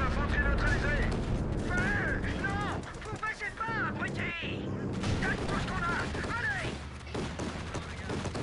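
Gunfire pours onto a building in the strategy game Company of Heroes 2, with rapid bursts of shots and distant artillery-like thuds. Someone talks excitedly in French over the shooting almost the whole time.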